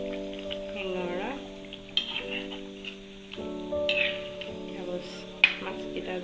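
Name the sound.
stirring koi fish curry frying in a pan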